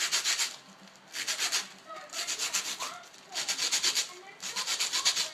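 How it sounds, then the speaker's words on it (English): Sandpaper rubs the tip of a skeleton hand bone in rapid rhythmic back-and-forth strokes, grouped into several short bursts with brief pauses between them, close and fairly loud. "I just put the tip over the edge of the sandpaper like that. You can see it. And I just sand this part down all the way around."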